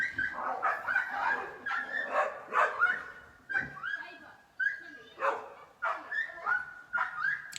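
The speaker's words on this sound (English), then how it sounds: "That's my mum's dogs." Several dogs bark and yip in bursts indoors at home, close and fairly loud, with whimpers between the barks and a person talking over them.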